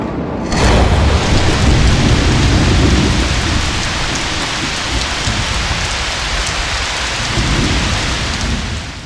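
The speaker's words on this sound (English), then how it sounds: "it is raining like crazy" Heavy rain pours steadily and loudly close by, with deep rumbling thunder rolling in near the start and again toward the end, and no voices.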